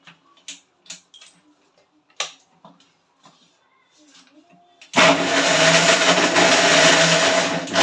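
A mixer grinder starts up and whirs loudly and steadily while grinding coconut, tomato, ginger, garlic, coriander and onion into a paste, following a few seconds of quiet kitchen clinks and someone speaking.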